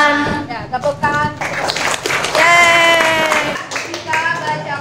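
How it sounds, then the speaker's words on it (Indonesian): A class of students clapping hands in a school classroom, a burst of quick claps layered with children's voices and singing-like speech. "Ya, tepuk tangan."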